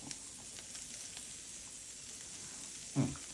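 Japanese A5 Wagyu beef cooking on a Zojirushi indoor grill, a continuous close sizzle and hiss of rendering fat with soft crackles and one brief louder clatter near the end.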